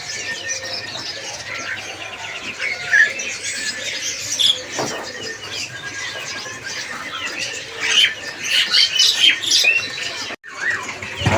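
Dense chorus of caged songbirds, including white starlings, chirping, squawking and whistling at a kiosk in Pramuka bird market after heavy rain, with many overlapping calls close by and continuous throughout.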